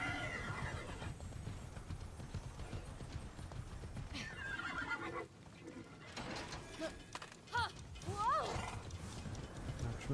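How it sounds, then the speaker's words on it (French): A horse in the video game Immortals Fenyx Rising, its hooves clip-clopping steadily through mechanical game ambience, broken by sharp, clear neighs and whinnies near the end. "On va prendre le cheval."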